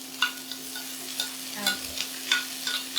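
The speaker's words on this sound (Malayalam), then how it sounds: "എല്ലാം ഇതൊന്ന് മിക്സ് ചെയ്യുക" A spoon stirs a Kerala-style white vegetable stew mixture in a hot pan, with light scraping taps in an irregular rhythm over a faint sizzle and a steady low hum.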